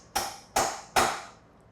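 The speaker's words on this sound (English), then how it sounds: "we're going to tap on the top of that punch with a hammer" A hammer taps a punch to force grease under a gear motor bushing and lift it, three sharp metallic strikes about half a second apart, each ringing briefly and decaying, close and loud with no speech.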